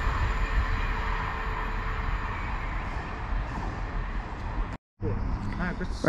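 A three-car South Western Railway passenger train on the Salisbury to London Waterloo service rolls through a station with a steady rumble and rail noise. It breaks off abruptly near the end, then resumes briefly.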